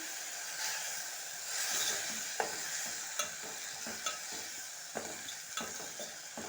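Okra frying in a pan with a steady sizzle and hiss while a utensil stirs it, bringing soft scrapes and occasional sharp taps against the metal, close up and with no talking.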